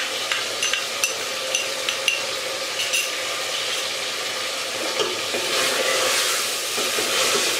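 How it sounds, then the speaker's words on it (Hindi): Yogurt-marinated chicken with ginger-garlic paste and green chillies frying in a pan, a steady bright sizzle with occasional stirring clinks throughout. "तकरीबन हम इसको इसी तरह 4 मिनट भूनेंगे"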